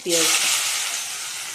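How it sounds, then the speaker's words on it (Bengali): Bay leaf and chopped onion hitting hot oil in a pan, a loud burst of sizzling that flares up at once and then settles into a steady hiss. "তেলটা আমার গরম হয়ে গেছে, আমি দিয়ে দিচ্ছি তেজপাতা, দিয়ে দিচ্ছি কুচিয়ে রাখা"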